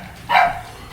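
One sharp, fairly loud dog bark rings out close by during a live stream, brief and alone against quiet background noise.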